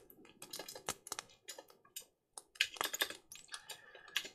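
Close, fairly quiet clatter of typing on a computer keyboard while notes are jotted down for a tabletop adventure, with irregular bursts of key taps separated by short pauses.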